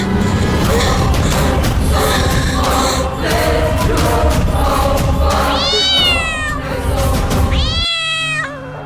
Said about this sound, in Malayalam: പൂച്ചയായിരുന്നു.